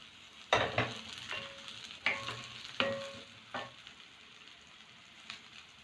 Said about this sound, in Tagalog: Then we are going to mix the pan-fried tofu.